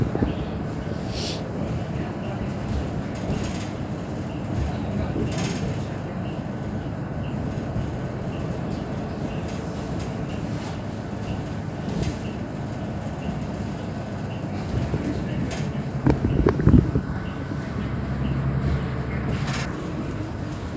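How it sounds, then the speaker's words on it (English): Steady low rumble and road noise inside a moving public bus on a quiet Sunday route, continuous and fairly loud, with a brief louder clatter near the end and no clear talk. "So yeah, we're inside of the bus."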